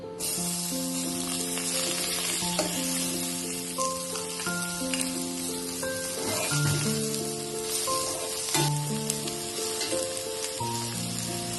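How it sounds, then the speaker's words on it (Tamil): Large onions fry in a pan of Healux cookware for prawn biryani, a steady bright hiss of sizzling running beneath prominent melodic background music. "அடுத்து நம்ம பெரிய வெங்காயம் சேர்த்துக்கலாம்."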